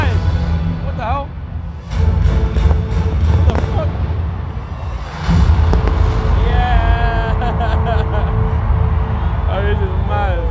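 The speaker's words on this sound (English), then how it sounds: "Got fireworks inside." Indoor fireworks bursting inside a Texas rodeo arena, sharp cracks and pops scattered through a loud roaring crowd, with people talking and cheering nearby.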